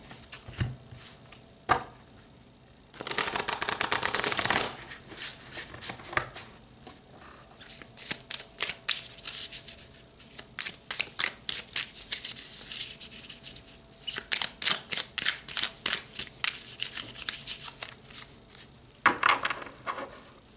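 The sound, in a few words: shuffling tarot cards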